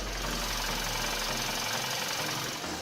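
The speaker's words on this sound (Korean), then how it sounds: "영상으로 엔진 소음 한번 담아보도록 하겠습니다" A gasoline car engine idles up close with the hood open, a steady mechanical hum with faint ticking and clatter from the engine bay, no voices.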